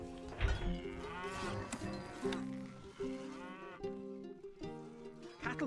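Cattle on a farm in the game Stronghold HD low repeatedly, several overlapping moos with tonal, drawn-out calls one after another, fairly clear and close with no talking.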